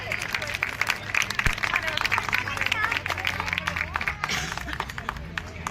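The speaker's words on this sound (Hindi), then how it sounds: "जोरदार तालियों से इनका स्वागत करें।" Steady applause from an audience at a children's play competition held by a Jalgaon education society, dense and sustained for several seconds, with crowd chatter and voices mixed in.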